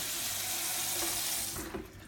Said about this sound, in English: I'll run the water until I get it to about the right temperature